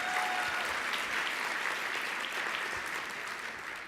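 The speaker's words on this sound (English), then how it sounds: "let's clap for Chad" An audience at a Human Rights Campaign dinner in Arizona breaks into steady applause after a speech, a fairly soft, dense patter of many hands clapping that continues evenly for a few seconds with no talking over it.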